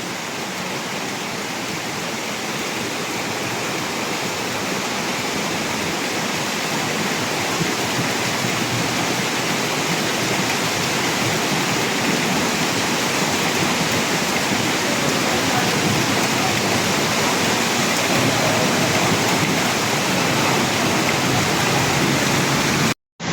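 Heavy rain pours down in a sudden downpour that floods the streets, a dense, loud, unbroken hiss that holds steady throughout and cuts off abruptly at the end.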